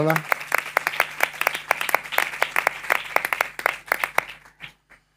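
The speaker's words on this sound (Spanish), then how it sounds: "otro aplauso por favor" Scattered audience clapping at a flamenco education conference, with distinct individual claps, moderately close, tapering off and stopping near the end.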